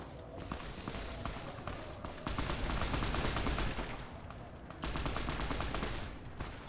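Sustained gunfire from a firefight in Freeside in the video game Fallout: New Vegas, with rapid automatic bursts and shots stacking densely over several seconds, loud and continuous with brief lulls.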